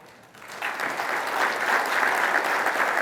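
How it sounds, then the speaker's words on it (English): A panel audience bursts into a round of applause, the clapping swelling quickly and holding at a dense, steady level throughout. "give him a round of applause"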